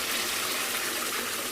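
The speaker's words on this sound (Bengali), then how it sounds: "এখানে আমি বেশি জল দিব না, অল্প একটু জল দিব।" A short, steady splash and gush of water poured into a pan of browned chicken for a Bangladeshi chicken roast, loud and close with no voices.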